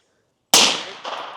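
A single sharp gunshot from a newly built rifle cracks at an outdoor shooting range, loud and close after silence, followed by a lingering decaying echo and a fainter second report.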